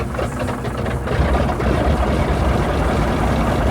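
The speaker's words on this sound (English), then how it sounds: "listen to the throaty sound of a 600 horsepower supercharged Pratt & Whitney engine coming to life." A 600 horsepower supercharged Pratt & Whitney aircraft engine coming to life, a loud throaty low rumble that swells and settles into a steady roar, close and continuous with no voices over it.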